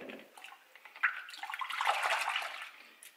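Water sloshes and splashes in a bucket mixed with washing-up liquid, a soft close wet swirl that builds in the middle and tapers off, with no voices.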